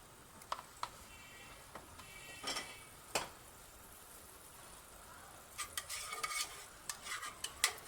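Garlic frying in oil in a small pan for a pizza topping: a faint, quiet sizzle with scattered sharp clinks of a spoon stirring against the pan.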